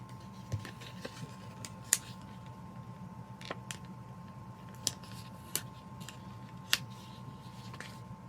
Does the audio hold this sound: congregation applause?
no